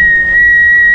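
A cuckoo whistle toy blown in Puglia, Italy gives a steady, piercing single whistle tone that runs loud and close for the full second.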